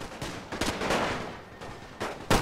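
Exchange of gunfire in The Great War, a strategy game, as troops shoot back and forth at the outskirts of a town: sharp, irregular shots and short bursts, some close and loud, others softer and farther off, with no talk.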